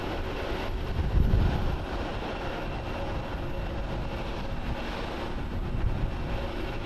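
All Nippon Airways Boeing 787-9 Dreamliner, eight years old in Starline livery, on the runway at Haneda Airport in Tokyo: a steady low jet-engine rumble, moderately distant, swelling briefly early on and holding an even drone.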